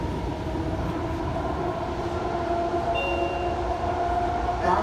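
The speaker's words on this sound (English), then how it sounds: "VTA train car right now I'm on is" Onboard a VTA light rail train, car 947, riding between stations: a continuous rumble of wheels on track with a steady hum and tonal whine, fairly loud and unbroken.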